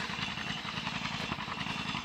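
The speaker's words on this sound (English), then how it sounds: "everybody always enjoys old John Deere running" An old John Deere B tractor runs while cutting hay in a field, a low, steady, rhythmic engine chugging at moderate distance with a rough mechanical texture throughout.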